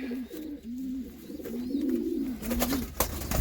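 A racing pigeon in a breeding loft gives a close, low, repeated cooing that rises and falls, with some rustling and a sharp knock near the end.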